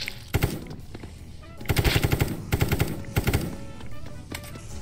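Automatic gunfire from in-game weapons in the survival shooter Apocalypse Rising 2 rattles out in three loud, rapid bursts separated by short pauses, with a faint tonal hum lingering in the background.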